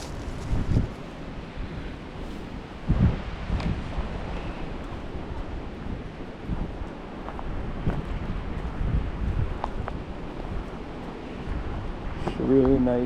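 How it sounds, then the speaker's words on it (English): Wind roars and buffets a microphone at a lakeside park in Meredith, New Hampshire, a steady broadband rush with gusty swells lasting throughout, while a person talks faintly beneath it. "You guys hear that wind roaring?"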